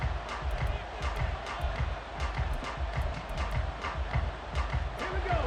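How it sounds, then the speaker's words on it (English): A stadium crowd in the Madden NFL 24 football game keeps up a loud, steady roar with continuous rumbling and scattered sharp accents throughout. "This crowd turning up the decibel level."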